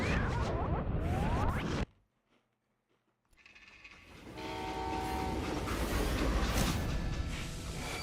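Freight train in the Western game Call of Juarez: Gunslinger, a loud rumble that cuts to near silence, then swells back as a rolling, clattering passage with tonal horn-like notes, no voices over it.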